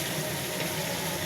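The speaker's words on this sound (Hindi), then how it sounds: "अब इसमें डाल देते हैं पानी।" Water being poured into a pan of frying chicken masala, a continuous splashing, hissing rush that stays loud and even throughout with no talk.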